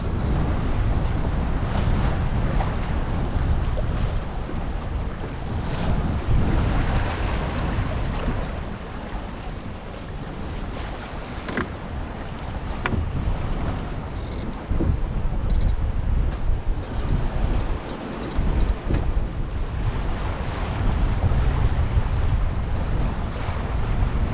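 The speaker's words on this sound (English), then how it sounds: "I've got these following waves" Following waves and steady wind while sailing a 20-foot Norfolk Gypsy, a continuous loud rush of surf and water with heavy wind buffeting on the microphone, swelling and easing throughout, with no talking.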